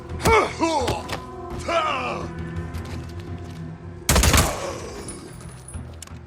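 Gunfire bursts in the video game Days Gone, with a sharp loud blast later in the clip among groans and yells, and character voices and music running underneath throughout.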